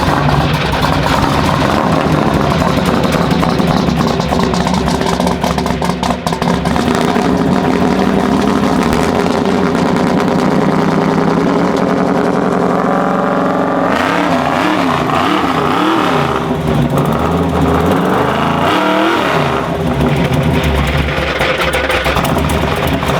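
A car engine brought back to life after sitting unused for four years idles with a steady, loud rumble, then revs up and down in surging waves, with a sharp exhaust backfire popping out near the end.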